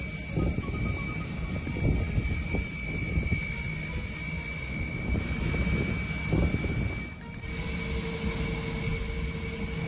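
Broad mechanical roar of a modified Boeing airliner arriving in Namibia to carry cheetahs, a loud steady rumble with fluctuating engine noise and a few thin tonal whines over the whole span.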